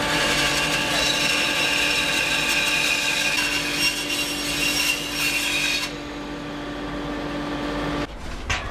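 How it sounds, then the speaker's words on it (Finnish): Two wooden boards are cut at once along curved marked lines, a steady rasping saw stroke continuing for several seconds before cutting off near the end, in a woodworking setting. "Sahaan ensin tän pyöreäksi nämä molemmat laudat"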